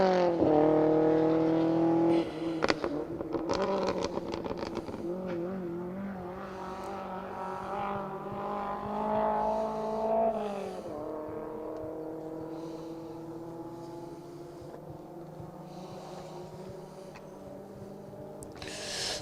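Rally car racing past on a forest stage of the Greystoke Stages, engine note rising and falling steadily through gear changes as it goes by, loud and close for most of the time before fading slightly.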